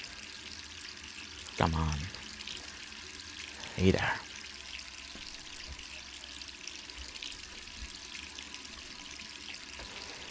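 Water runs from a bathroom tap in the Resident Evil 3 Remake video game, a soft continuous flow heard at low level, while a person speaks briefly over it twice.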